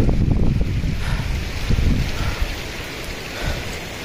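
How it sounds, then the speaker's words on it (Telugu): Waterfalls roar around Harishchandragad in Maharashtra after rain, a constant rush of water, with gusts of wind buffeting the microphone in low bursts. "వర్షం అయితే పోయింది కానీ చుట్టూ వాటర్ ఫాల్స్ మాత్రం గగ్గోలు పెడుతున్నాయి"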